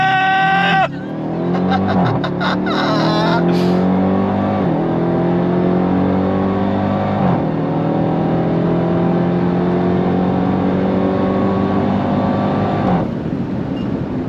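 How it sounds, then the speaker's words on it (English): A 2026 Dodge Durango Hellcat Jailbreak supercharged V8 launches hard with launch control, roaring loudly through several rising upshifts in close succession before easing off, heard close-up from inside the cabin. "Let's do launch control one more time."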